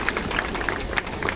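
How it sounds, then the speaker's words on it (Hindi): A crowd claps in welcome at a flower show event at Raj Bhavan in Lucknow, a dense, steady burst of applause with distinct individual claps standing out close by. "एक बार जोरदार तालियों के साथ स्वागत"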